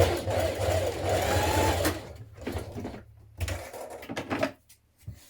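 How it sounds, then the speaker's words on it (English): A sewing machine runs in steady bursts while basting along the bottom hem of a skirt for a 1970s wrap dress, a long continuous stitch followed by shorter stop-start runs and brief pauses. "I'm just going to baste along the bottom to keep that flat"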